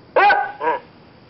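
A dog barks twice from a television show, a loud first bark followed by a slightly softer second one, close and clear with no voices.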